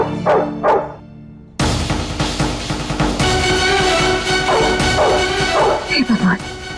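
A dog barks indoors in a Hindi TV drama scene: a few sharp, loud barks and yips, then more barking and whimpering mixed under busy dialogue and background music.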